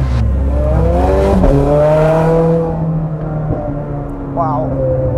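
A straight-piped Ferrari engine accelerating hard, its loud, raw exhaust rising in pitch through a gear change, then easing off, heard up close with a short squeal of tires near the end.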